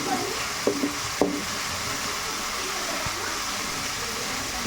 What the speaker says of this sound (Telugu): బాగా ఫ్రై అవుతుంది.